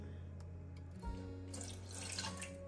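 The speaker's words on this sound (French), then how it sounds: "je vais venir ajouter l'équivalent de 2 cuillères à soupe d'eau ou un petit peu d'eau dans le fond de mon panier" Water poured into the bottom of an air fryer basket holding corn on the cob, a short running splash and trickle heard close by, with no talking.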